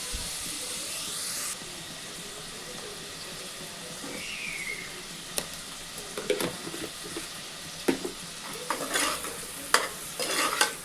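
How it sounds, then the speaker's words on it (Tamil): Sliced onions sautéed in a pan with a little salt, a steady hissing sizzle that builds into increasingly frequent scraping and clattering stirs toward the end. "ஆனியன் வதங்கிறதுக்கு கொஞ்சமாக சால்ட்டு சேர்த்துக்கலாம்"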